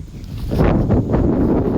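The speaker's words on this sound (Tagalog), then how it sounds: "Ganda ng hangin, grabe." Strong gusts of wind buffet the microphone in loud, low rumbling bursts, with no voices.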